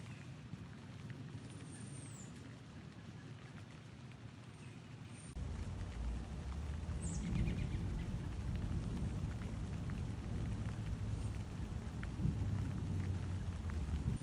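Steady rain falls during a storm in Canton, Ohio, with a low rumble of thunder swelling midway and continuing beneath the constant hiss, fairly quiet overall, with faint bird chirps.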